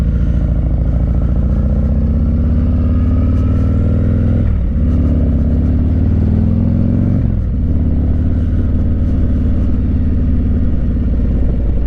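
A 2022 Harley-Davidson Street Glide Special with a 131 Screamin' Eagle kit on the stock bottom end, breathing through Bassani exhaust, rumbles loud and close as a steady idle, with two sharp revs blipping up and dropping back.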